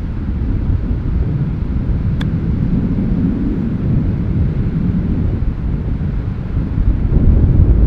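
Strong wind in 40 mph gusts on a golf course, a loud continuous low roar of air buffeting the microphone, steady throughout and swelling near the end, with no voices.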